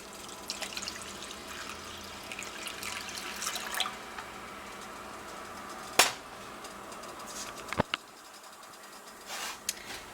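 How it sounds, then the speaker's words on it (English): Two cups of water go into a pot of cooking noodles for mac and cheese, heard as soft pouring and dripping with a few sharp clinks against the pot amid quiet kitchen background. "I'm going to be adding in 2 cups of water"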